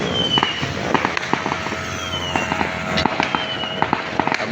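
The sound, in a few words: fireworks exploding at New Year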